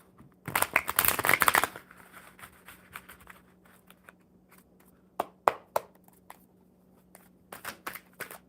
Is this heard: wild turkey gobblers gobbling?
no